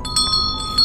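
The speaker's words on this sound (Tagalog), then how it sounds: "narinig niya ulit yung tunog ng bell." A bell rings as a sound effect in a forest setting: a sustained, clear metallic tone with steady high overtones, heard alone for under a second.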